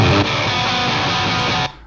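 Electric guitar played through an amp's distortion channel with rock reverb, a loud, dense, sustained distorted chord ringing for under two seconds before cutting off, with a brief reverb tail.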